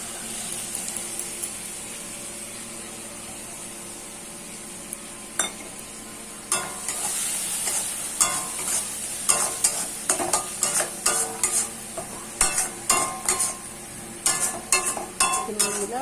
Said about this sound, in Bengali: তাতে মিক্স করে ভালো করে মশলাটা কড়াতে দিয়ে দেব